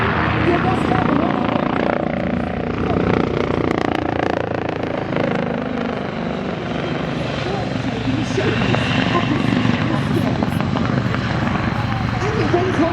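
An RNZAF military helicopter hovers at the Warbirds over Wanaka 2024 air show with its gear down. Its loud, constant rotor and turbine roar fills the whole stretch, and crowd and announcer voices are faintly mixed in.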